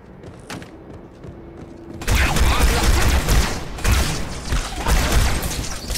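Gunfire from a weapon in the Halo 2 video game breaks out as a loud, sustained barrage of shots and booms that runs continuously after a brief quieter opening.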